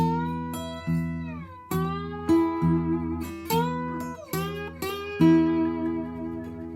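A slide guitar riff in E, in standard tuning, played alone, notes gliding up and down between sustained chords, with several distinct picked phrases at a steady, moderate volume.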